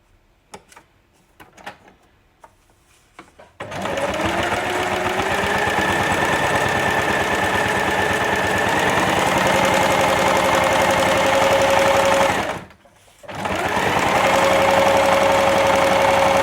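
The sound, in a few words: sewing machine stitching quilt pieces together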